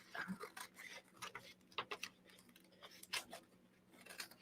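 Sewing scissors trim the edge of a piece of felt for a journal cover, giving a run of quiet, uneven snips and clicks at close range with no talking.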